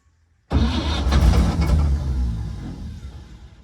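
The engine of a 1950 Chevrolet 4400 dump truck cranks and catches abruptly after a brief silence, then settles into a loud, rough running note that slowly fades back; nearby and alone, no voices.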